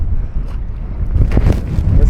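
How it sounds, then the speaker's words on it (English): Strong blizzard wind buffets an outdoor microphone in a steady low roar, swelling into louder gusts toward the end, with no clear talk over it. "It's too windy."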